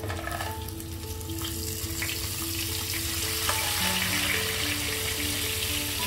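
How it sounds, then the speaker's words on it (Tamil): Masala-coated salmon fries on a low flame, giving a steady close sizzle and crackle that builds slightly louder toward the end. "இது வந்து கொஞ்சம் லோ ஃப்ளேமில் நம்ம வந்து ஃப்ரை பண்ணணும்"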